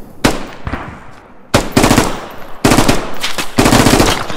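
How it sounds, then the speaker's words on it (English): Bursts of automatic rifle fire in the military shooter game Squad, loud and close, coming in several sharp volleys of rapid shots separated by brief pauses, with no talk over them. "Somebody's shooting at us!"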